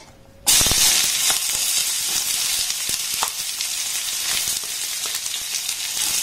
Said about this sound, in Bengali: পেঁয়াজ আর কাঁচা লঙ্কাটাকে একটু নাড়াচাড়া করে ভেজে নেব।